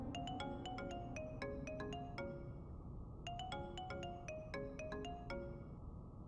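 A phone ringtone plays a bright, repeating electronic melody of quick chiming notes, two phrases in a row, over a low background hum.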